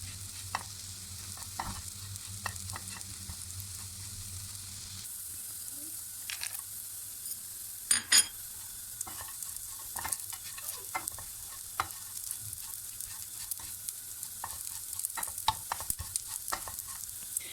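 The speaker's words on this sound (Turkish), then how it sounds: "Kadayıfımız çok güzel kızardı arkadaşlar" Shredded kadayif pastry fries and sizzles in a pan, a steady soft hiss broken by frequent scraping stirs and a few sharper clinks of a utensil against the pan, close by.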